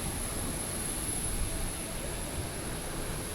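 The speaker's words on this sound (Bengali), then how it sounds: "আওয়াজ ক্লিয়ারলি আসবে না, কারণ ইঞ্জিন মানে একটা ইঞ্জিনের আওয়াজ আসছে" Airplane jet engine at an airport producing a continuous, even broadband roar with a thin high whine, steady throughout with no talk.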